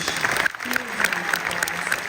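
Audience applause for a district honor band at a concert, a steady wash of many hands clapping throughout, fairly loud and dense, with a brief dip midway and a voice faintly present underneath.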